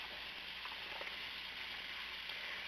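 Butter sizzling steadily in a hot pan, a soft, even hiss with a few faint crackles and pops, continuous and fairly quiet throughout.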